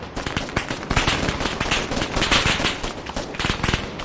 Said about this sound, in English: So they're firing back and forth.